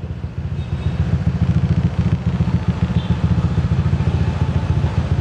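A steady low mechanical whir with a fast rhythmic pulsing, the electric motor of a motorized seat lowering on a modified Honda PCX 150 scooter, running continuously at close range.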